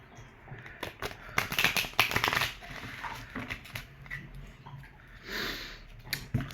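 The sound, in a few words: oracle card deck being shuffled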